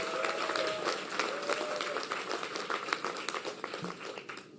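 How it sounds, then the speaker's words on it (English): A crowd at a New York City mayoral housing announcement breaks into sustained applause, a dense steady wash of clapping from many hands, fairly distant and without speech. "Let's give them a round of applause."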